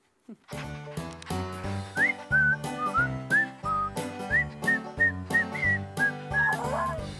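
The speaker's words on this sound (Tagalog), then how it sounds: "Sige, sabayan mo akong pumito, ha?" Someone whistles a bright, lilting tune over rhythmic guitar-like backing, the melody in short phrases repeated across several bars.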